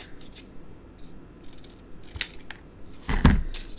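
Scissors trimming scored cardstock for a card kit box album, with several crisp snips, one loud and close near the end.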